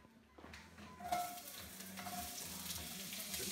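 Onions hitting olive oil in a heavy cast iron saucepan, a quiet start that bursts into a steady, bright sizzle after about a second, with faint stirring scrapes underneath.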